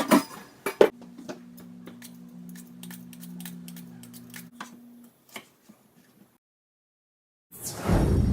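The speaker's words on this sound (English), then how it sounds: "Okay, start peeling and coring." Apples being peeled and cored with a knife in a home kitchen for a gluten-free apple crumble: scattered close clicks and light scrapes over a low steady hum, then a louder rustling clatter at the end.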